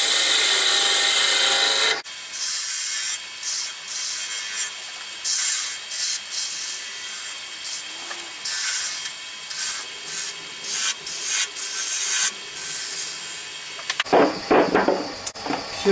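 A wooden snowman spins on a lathe as a gouge rubs and scrapes along it, making a loud continuous cutting hiss broken into uneven bursts, with quieter gaps and a shift in tone near the end.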